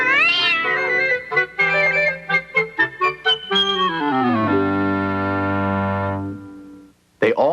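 A cat meows loudly and close by in a run of short, rising calls, then one long drawn-out yowl that fades before a brief final sound.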